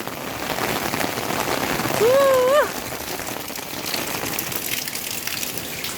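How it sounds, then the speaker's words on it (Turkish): Heavy rain pours down steadily and loudly outdoors as a dense, continuous hiss, with a brief voice rising over it midway. "Evet acayip yağmur. Aşırı yağmur."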